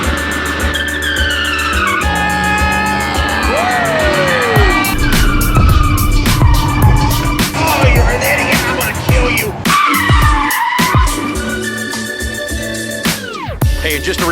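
A Corvette C6 under locked-wheel braking screeches loudly as its tires skid, with wavering squeals and engine noise rising and falling over several seconds, close and dominant.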